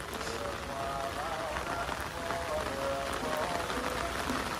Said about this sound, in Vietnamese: Bữa nay mưa quá